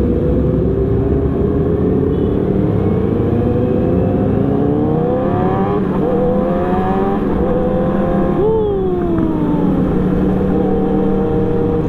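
A Yamaha R1 sport motorcycle engine revs loud and close while riding, a sustained high-pitched roar rising and falling through gear changes with no talk over it.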